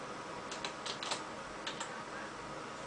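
Light clicks and taps of keys on a computer keyboard, scattered and irregular over a steady background hiss, fairly quiet and close, with no talking.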